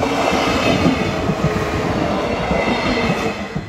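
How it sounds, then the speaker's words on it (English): A train rolls past close by, a loud continuous rumble of rail wagons with rhythmic wheel clatter and a faint metallic squeal, steady for the whole stretch and with no talking. "oh, there's the train."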